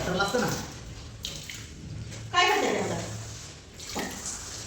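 Water splashes and swishes across a floor in bursts while the floor and kitchen are scrubbed, with a voice talking over it.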